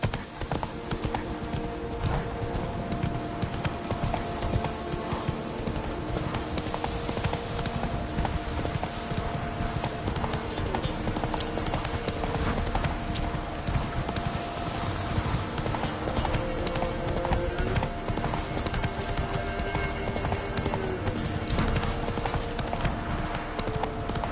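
A galloping horse in The Witcher 3 pounds out a dense, steady stream of hoofbeats for the whole stretch, loud and unbroken over background sound.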